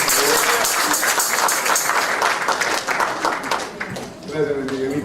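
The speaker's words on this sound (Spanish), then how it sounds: "Quiero que le den un aplauso a este siervo del Señor." Congregation applauding a church servant at a Nazareno church service in South Mountain, a steady, dense wash of clapping filling the space, easing slightly near the end as voices come through underneath.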